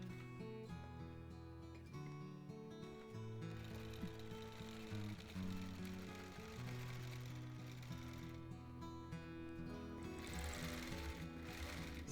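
A longarm quilting machine stitches along the outside edge of a quilt, its fast, steady motor hum running quietly through the whole stretch alongside a faint, sustained background tone.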